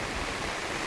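Heavy rain pours down in a village, a brief dense, even hiss of falling water with no pauses or other sounds.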